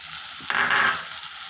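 Coriander powder sizzles as it hits hot oil in a frying pan for chickpea curry, a soft hiss that surges midway, peaks for about half a second, then settles back to a quieter crackle, with no voices.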